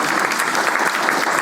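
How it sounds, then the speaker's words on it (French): An audience claps continuously at a French civic conference after a talk by the Défenseure des droits, a dense, even patter of applause with no voices over it. "On peut l'applaudir"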